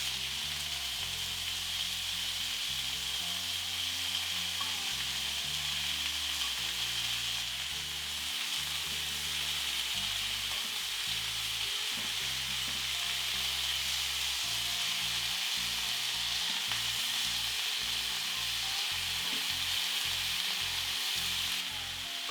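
Beef steak cubes sear in garlic butter in a hot pan, giving a steady, loud, close sizzle throughout with faint crackles and occasional stirring, and no voices.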